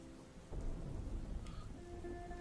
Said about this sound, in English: Look at this rain. This is the rain I'm talking about.